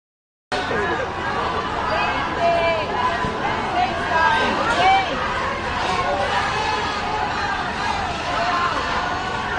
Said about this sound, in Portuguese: Um grupo de brasileiros recebeu o petista com vaias e gritos de ladrão